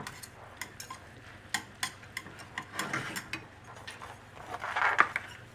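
Butter being stirred into a wine and mustard sauce, soft scraping and light clicking of the utensil ticking in an irregular rhythm, quiet and close, with no talk.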